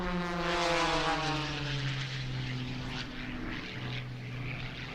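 Propeller-driven military aircraft maneuvering at the NAS Oceana air show, a loud steady engine drone with strong harmonic tones that slowly shift in pitch as the plane rolls past, no talk.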